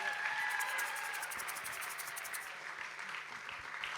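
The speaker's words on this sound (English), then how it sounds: "Give them a big round of applause." An audience applauds young people at a community celebration of Lunar New Year, with steady dense clapping that is faint and distant, thinning out toward the end.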